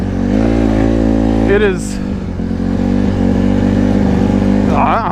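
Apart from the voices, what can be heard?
Honda CRF150RB street-legal motorcycle engine revving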